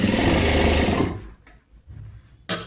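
A sewing machine stitching the lining of a work blouse whirs in a rapid, loud run for about a second, falls quiet, then starts again briefly at the end.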